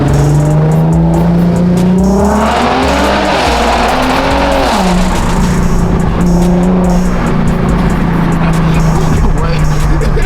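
A Corvette C8 sports car's engine revs loud and close, its pitch climbing and dropping, while people talk over the sound.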